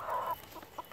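A chicken gives a drawn-out call followed by a few short, soft clucks, close by in a quiet indoor space.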